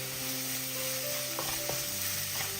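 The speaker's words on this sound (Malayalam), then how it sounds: "ഇപ്പോൾ ഒരു മീഡിയം ഫ്ലെയിമിൽ വെച്ചിട്ട് 1 മിനിറ്റ് സവാള ഒന്ന് ഇളക്കി കൊടുത്തിട്ടുണ്ട്." Onions sizzle steadily in a frying pan over medium flame, with a soft constant hiss and a few light scraping strokes of stirring.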